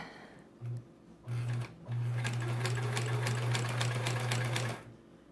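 A home sewing machine stitches quilt block pieces: two short bursts of whirring, then a steady run of close, rapid mechanical stitching lasting about three seconds before it stops, with no speech.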